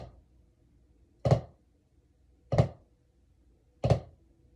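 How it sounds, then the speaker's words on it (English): A drum flam played with two sticks, each stroke a quick double hit that blurs together, repeated three times at an even, unhurried pace, close and alone in a quiet room. "So it kind of creates this double hit effect."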